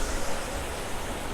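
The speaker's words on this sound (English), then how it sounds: "You can see one waterfall here to front of me, to the right, and one over there." A waterfall in Purwokerto, Java pours with a steady, broadband rushing hiss, close and continuous throughout a brief moment.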